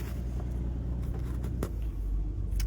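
A car driving along with a steady low road rumble and engine drone from inside the cabin, broken by a few faint knocks and no talk.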